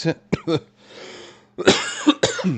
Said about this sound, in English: as I cough on cue